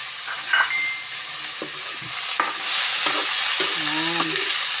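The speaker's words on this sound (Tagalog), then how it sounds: "Igisa natin" Shrimp sauté in a hot pan with taro, giving a steady, close sizzle and crackle of frying with occasional utensil scrapes and brief tonal squeaks on top.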